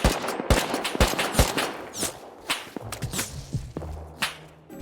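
Gunfire in a multiplayer survival video game rings out as a quick string of sharp, cracking shots, some clustered in fast bursts and others spaced apart, with the loudest reports near the start and a low hum underneath.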